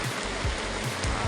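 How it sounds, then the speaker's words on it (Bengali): Heavy rain pours down at a fair with a dense, loud, continuous rush close by. Heavier drips or spatters land at irregular moments under it, and no voices are heard. "বৃষ্টি এসে গেছে রে"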